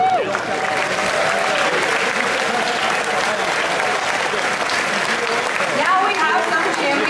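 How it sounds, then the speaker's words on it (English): A large crowd at the Pokémon World Championships 2024 applauds steadily, dense clapping holding at an even, full level for several seconds. "So give yourselves a round of applause."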